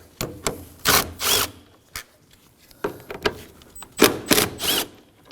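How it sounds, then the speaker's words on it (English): A 10mm socket wrench removes the radiator fan bolts on a 2014-2020 Acura MDX, with close, bursty metallic ratcheting in short runs and pauses, then a sharper cluster of clicks near the end. "It has 2 10mm bolts on top. Let's remove those using a 10mm socket."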